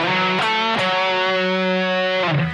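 Electric guitar with a slightly driven tone plays a short pentatonic scale passage: a few picked notes ring out and sustain, close and clear, with no talking.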